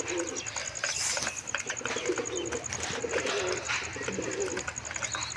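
Domestic pigeons in a home loft, a seasoned male and a hen among them, coo continuously in soft, low, rolling calls, with a steady high chirping in the background and no talking.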